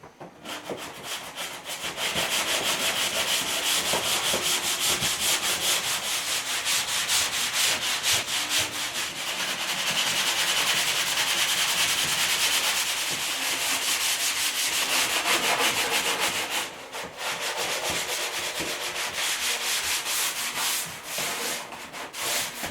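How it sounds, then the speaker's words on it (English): Drywall joint compound being hand-sanded on a shower wall, a loud, close, continuous rasping scrub with steady back-and-forth strokes that pauses briefly near the end. "first I'm going to sand this coat down before we apply the final coat"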